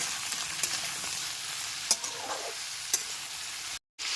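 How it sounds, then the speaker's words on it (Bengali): Spinach is stirred in a pan with salt and turmeric powder over a steady, moderate sizzle, with scattered scraping clicks from the spoon and a brief dropout near the end. "লবণ আর হলুদ গুঁড়োটা দিয়ে খুব ভালো মতো একবার মিশিয়ে নেব"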